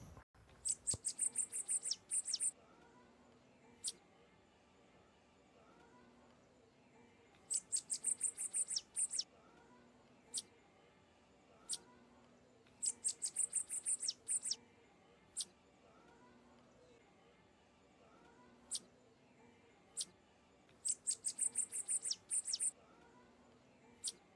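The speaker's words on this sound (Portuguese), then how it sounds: "Ele é considerado um dos cantos mais belos e marcantes entre as aves brasileiras" A Brazilian songbird sings in repeated bursts of bright, high, rapid notes every few seconds, with single chirps between them over a faint insect-like hum in the background.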